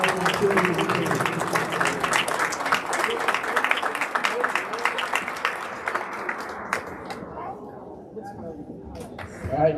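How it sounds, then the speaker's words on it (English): Crowd applause at a school winter sports awards ceremony, sharp clapping with some speech mixed in that thins out and fades over the last few seconds. "please join me in a round of applause for our 2022"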